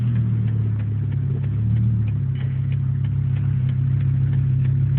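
A Volvo 850 engine fitted with turbo spark plugs idles smoothly and steadily, a close, loud, even rumble with a faint ticking running through it and no voices.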